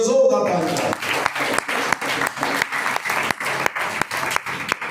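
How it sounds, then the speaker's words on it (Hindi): Congregation applauding at a Sunday church service, a strong burst of clapping settling into a steady rhythmic beat after a brief voice at the start. "यीशु के जलाल के लिए जोरदार ताली।"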